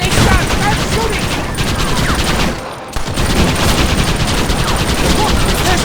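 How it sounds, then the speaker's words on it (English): Loud, dense gunfire from the Red Dead Redemption video game rattles almost continuously in a rapid barrage, with a short dip in the middle before the shooting resumes. "Start shooting!"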